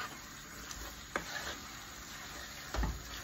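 Carbonara pasta being stirred together with cream, a faint soft sizzle and wet scraping with a few clinks of the utensil against the pan, quiet and steady.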